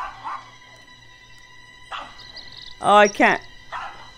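Jake the dog in the video game We Are Not Alone barks twice in quick succession, loud and close, with a person speaking briefly before and around the barks.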